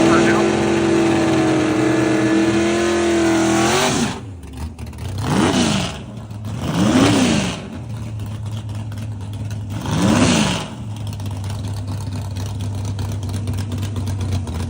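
A race car engine, Project Pontiac, held at a steady drone, then cut and blipped in three separate rising-and-falling revs before settling back to a loud idle.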